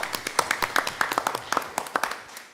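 Audience applause at a school board meeting, a short burst of scattered hand claps from a small group, fairly faint and fading out after a couple of seconds.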